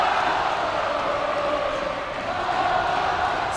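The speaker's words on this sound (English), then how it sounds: "Oh boy, this crowd is electric." Gym crowd at a varsity high school basketball game cheering loudly and continuously, a thick sustained roar of voices in the final seconds of play.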